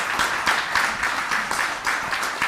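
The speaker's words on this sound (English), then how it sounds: "Can we give a big round of applause for the audience?" Steady audience applause, many hands clapping in a dense, continuous wash with rhythmic swells, fairly loud and close.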